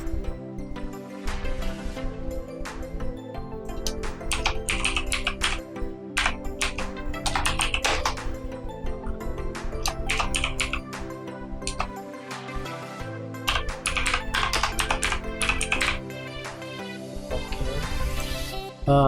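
Rapid, uneven keystrokes on a computer keyboard as a name is typed into a motion graphics template editor, close and clear, continuing for nearly twenty seconds with short pauses and no speech.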